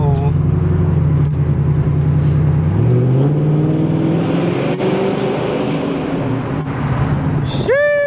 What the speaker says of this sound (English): Exhaust clip coming.